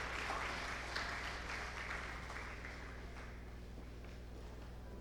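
Faint applause from an audience at a diaspora day celebration patters steadily and gradually thins out, set against a low electrical hum.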